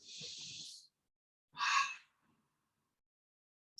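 Slow, deep yoga breaths close to the microphone, with a long airy inhale, a pause and then a fuller exhale, each standing alone against near silence.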